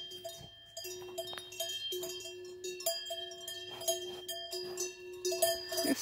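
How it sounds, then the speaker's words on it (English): Cowbells clang on grazing cows in a mountain pasture in the Alps, many bells ringing irregularly and overlapping at close range, steady throughout with no speech. "like being in the Austrian Alps, if you can hear me over these cowbells"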